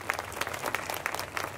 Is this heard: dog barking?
no